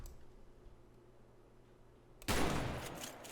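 Sawed-off shotgun firing in a SAMP video game, a sudden loud blast bursting out of a quiet low hum and ringing off briefly.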